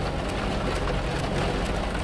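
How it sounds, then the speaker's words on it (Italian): Steady rain in the video game Downfall, a continuous dense hiss with a low rumble underneath and no pauses. "Nonna, come piove"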